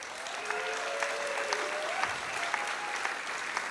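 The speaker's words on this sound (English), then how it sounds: "let's give, honestly, like a really heartfelt round of applause," An audience at a rally on keeping vaccinations optional in Hawaii claps steadily and at medium distance, with some voices heard in the background.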